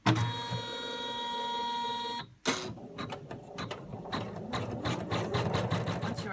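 An embroidery machine stitches stretchy fleece limbs held in a hoop, starting with a sustained steady drone, then after a brief pause continuing as a busier, uneven rattling run of stitches close by.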